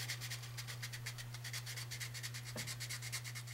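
Sandpaper rubs the enamel coating off a copper wire lead while building a 1:1 balun for an HF dipole antenna, giving a steady series of soft rapid scratching strokes over a constant low hum.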